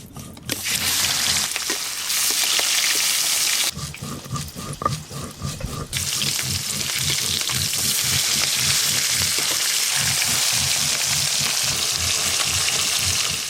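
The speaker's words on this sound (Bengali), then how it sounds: "ইলিশ মাছের যা তেল বেরিয়েছে এই তেলে মাছ ভাজাও হয়ে যাবে" Hilsa fish pieces frying in the oil released from the fish: a loud, steady close-up sizzle and crackle of frying that continues throughout, with a brief dip partway through, no talking.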